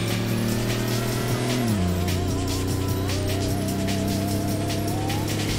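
A car engine drones steadily, its pitch shifting as it accelerates through gears in the Sega GT racing game on Dreamcast, loud and continuous with no talk over it.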